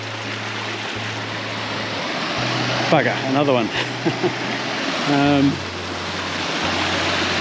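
A fast-flowing, torrential little river at a water crossing rushes as a steady broadband wash throughout, with a voice briefly speaking over it partway through.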